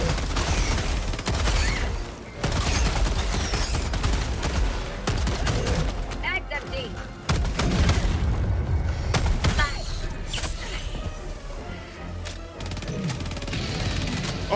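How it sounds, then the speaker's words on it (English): Dense gunfire in the Helldivers video game sounds in loud repeated bursts and booming impacts through most of the stretch, with players' voices talking over the action. "I'm sorry, Will, I just shot you!"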